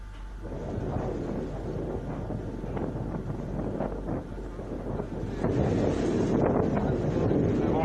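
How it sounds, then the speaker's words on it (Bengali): Strong wind from Cyclone Remal at Bhola, Bangladesh, buffets the microphone with a steady roar, growing heavier toward the end; light drizzle falls, but no distinct rain patter stands out beneath it. "জোরো বাতাসে গুড়ি গুড়ি বৃষ্টি এবং বাতাস বইছে।"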